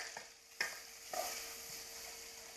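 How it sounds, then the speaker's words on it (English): Chopped tomato wedges sauté with vegetables in a pan for shrimp pilaf, giving a faint, steady sizzle broken by a few light scrapes of a stirring utensil. "Now we're going to saute all of this together."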